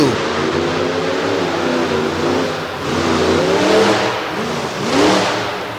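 The Alcatraz monster truck roars through a series of heavy engine revs at a monster truck show in Corbin, its loud throttle swelling and dipping in waves as it works the track.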